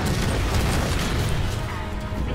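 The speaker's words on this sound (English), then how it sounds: "Master Chief jumps through explosions." Explosions in the video game Halo 4 rumble as a dense, continuous low boom for a couple of seconds, loud and steady with a broadband roar and no clear separate blasts.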